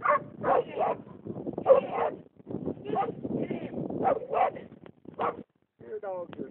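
Puppies and small black dogs yip, bark and whimper in short bursts, close and fairly loud, with people's voices mixed in between the yelps.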